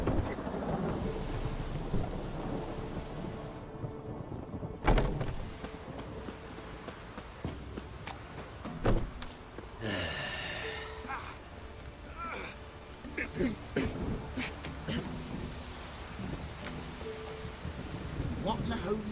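Rain and thunder in The Witcher 3 video game: steady rainfall hisses throughout while rolling thunder cracks and rumbles several times, with characters speaking over the storm.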